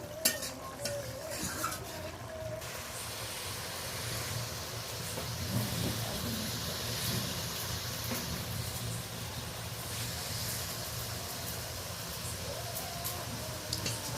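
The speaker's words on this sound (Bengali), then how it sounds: "ভালো করে একবার নেড়ে নিলাম।" Small Parshe fish jhal in a pan is stirred against a continuous close sizzle, with scraping and light utensil clinks throughout and no talk.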